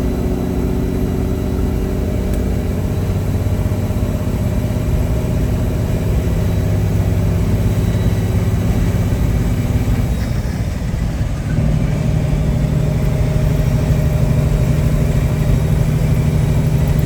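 Truck with a Triple Digit 359 engine and 15-speed transmission running steadily: a loud, continuous mid-low engine drone with a slight shift in pitch midway, heard from close by with no talk.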